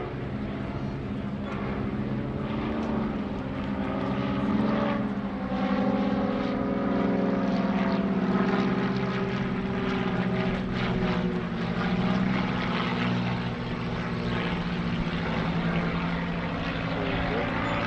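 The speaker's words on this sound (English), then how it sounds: "From the left, here's Stash and Sliver, the Beechcraft T-34 Mentor." Beechcraft T-34 Mentor propeller trainer flying at the 2021 Greenwood Lake Airshow, its steady droning engine and prop hum loud and continuous throughout, with an announcer talking over it.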